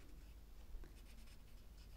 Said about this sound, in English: Let me quickly color in the dice that we